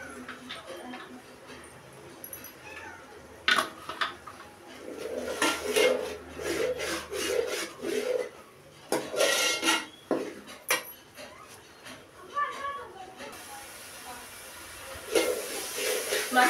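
Metal spoon scraping and stirring masala frying in a pan, with intermittent rasping, clinking strokes close by and soft sizzling beneath, pausing and resuming irregularly.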